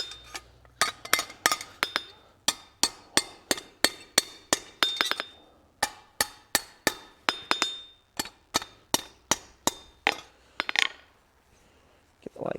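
Hammer blows ring out on hot metal over an anvil at a blacksmith's forge, a long run of sharp, bright metallic strikes in steady rhythm, close and loud, with short pauses between bursts and no talking.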